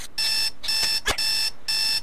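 A mobile phone rings in the video game Zero Zone: a loud, electronic trilling tone in four evenly spaced bursts with short gaps, plus a brief click between the second and third bursts.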